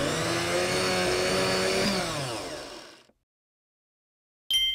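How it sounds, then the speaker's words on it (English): A blender whirs loudly while blending a banana smoothie, its motor pitch sliding down as it spins off, followed by a second of silence and an abrupt chime. "Put 2 pieces of banana into the blender."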